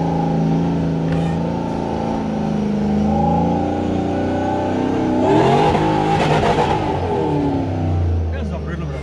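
A supercharged Toyota Hilux, running in two-wheel drive, revs hard while circling nearby, its engine note rising and falling through sustained loud surges.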